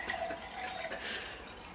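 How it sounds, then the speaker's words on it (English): Water pours steadily for about two seconds at a close, moderate level as a host refills a guest's drink, a continuous splashing trickle with no talk over it. "I'll give you some more water."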